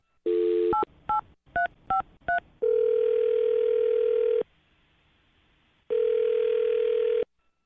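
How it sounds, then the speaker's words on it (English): A landline phone sounds a run of five short touch-tone dialing beeps, then two long steady ringback tones separated by a pause, loud and close with no talking. "I'm going to dial his phone number right now and get him on the phone"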